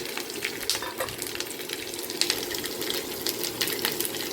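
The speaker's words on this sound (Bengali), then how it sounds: "তো চলো আগে আমি হালকা করে সবজিটা ভেজে নিই" Vegetables added to already fried onion sizzle steadily in a pan, with a continuous close crackle and occasional stirring scrapes, and no one speaking.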